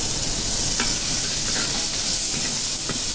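Onion and chopped tomato sautéing in a pan, a steady broad sizzle with faint stirring scrapes, loud and continuous with no talk.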